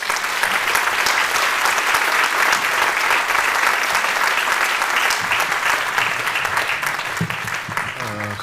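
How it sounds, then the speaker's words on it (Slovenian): Audience applause at a public event opening in Ajdovščina, a dense, sustained wash of many hands clapping indoors, loud and steady throughout with no break. "Prosim en aplavz za Samota Turka."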